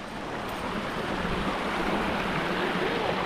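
Strong river current under high water rushes past as a steady, broadband roar of flowing water, close and unbroken with no voices.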